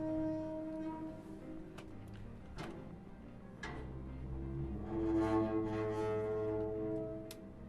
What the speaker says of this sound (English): It's, you know, a garbage can lid